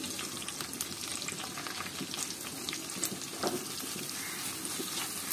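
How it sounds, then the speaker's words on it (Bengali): Chopped onions for pulao fry in oil with a dense, continuous sizzle and occasional spatula scrapes, close and moderately quiet, without talk. "পেঁয়াজ কুচিটা হালকা করে ভেজে নিব, হালকা ব্রাউন কালার করে"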